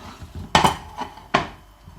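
Plate picked up and set down, giving three close knocks and clatters of crockery against a hard surface, separated by brief quiet.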